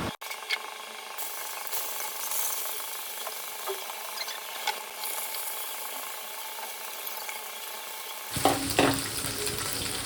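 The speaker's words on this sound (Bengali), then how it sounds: "একটু পনিরটাকে ভেজে নিচ্ছি আগে" Paneer pieces fry in a hot pan in a home kitchen, giving a steady close sizzle throughout with light scraping and stirring noises, then a louder burst of crackling near the end; no voices.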